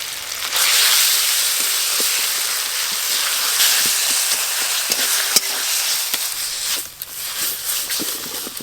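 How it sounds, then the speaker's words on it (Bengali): Onion and ground pea pod paste fry in a pan, a steady close sizzle with scattered soft clicks and scrapes of stirring and a brief dip near the end, no speech. "পেঁয়াজের সঙ্গে মটরশুঁটি খোসা বাটাটা একটু ভালো করে ভাজা ভাজা করে নেব।"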